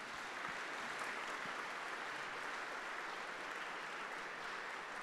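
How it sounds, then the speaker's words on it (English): Conference audience applauding the Czech foreign minister: a steady, even wash of clapping held at a constant level throughout, sounding somewhat distant and soft. "Let me invite you all to give the Minister another round of applause."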